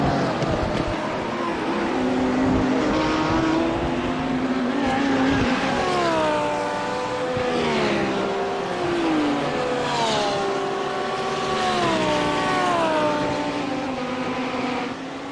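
A field of GT3 race cars, including Porsche, Ferrari, BMW and Lamborghini, lapping Imola in iRacing, engines droning loudly and continuously with rising and falling gear-change whines layered over each other.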